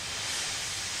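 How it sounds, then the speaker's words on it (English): Gordon, a big blue steam locomotive in the Trainz game, lets off a loud, steady hiss of steam that fills the whole moment without a break or any voices. "Gordon wheeshed some steam and pulled out of the station."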